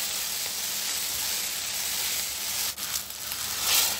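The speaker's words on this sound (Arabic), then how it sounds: "ننزل بقى البصل" Onions hit frying meat in a pot, giving a loud, dense, steady sizzle and hiss that swells slightly near the end.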